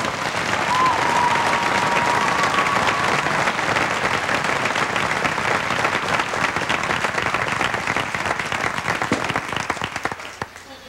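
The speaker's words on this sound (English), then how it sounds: "How about a nice round of applause?" An audience at an indoor marching band concert gives a long, loud round of applause, dense clapping and crowd noise sustained for about ten seconds before tapering off.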